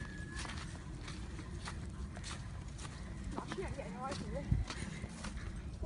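Shetland ponies walking across a field, with soft irregular hoof clops over steady outdoor wind noise and a few scattered sharper knocks near the end.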